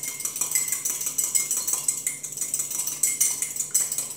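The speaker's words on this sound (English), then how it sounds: "Crack it in the little cup. Mix it up really, really good." An egg whisked briskly in a small cup, giving a fast, steady run of bright clinking taps from the utensil against the cup, close and fairly loud with no talking.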